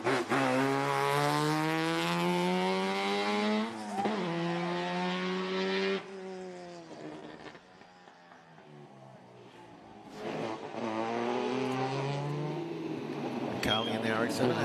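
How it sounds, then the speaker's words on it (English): Mazda RX-7 race car on a sprint course, its engine note rising and falling through gear changes, loud and sustained with revs dipping briefly before climbing again. "Carly and the RX-7 are completing the course as we go to the Humpies. Oh, they sound spectacular."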